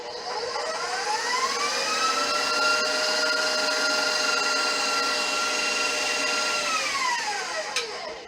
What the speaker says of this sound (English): you're going to want to whisk it until it's creamy